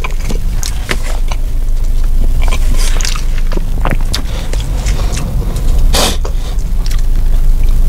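Someone bites into and chews a chili cheese hot dog at a Jersey City hot dog spot, loud close crunches and wet chewing over a busy, noisy room.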